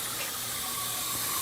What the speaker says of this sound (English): I put water in it.